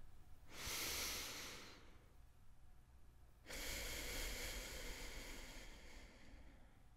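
A person draws a slow breath: a long soft inhale, a pause, then a longer airy exhale, close and quiet against a faint background.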